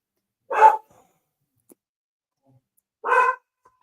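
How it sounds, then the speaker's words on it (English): A dog barks twice with single, fairly close barks separated by a few seconds of silence. "She's gonna bark as long as the neighbor's dog barks, unfortunately."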